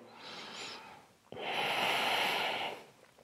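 A single deep breath taken during a yoga pose: a softer airy inhale, a brief pause, then a long, loud, close exhale that fades away.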